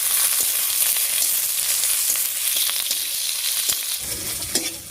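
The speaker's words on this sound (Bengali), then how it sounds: "ফোড়নটা ভাজা হয়ে গেছে" Garlic, chillies and black cumin fry in hot oil with a bright, continuous sizzle, while occasional stirring clicks sound close by; there is no talking.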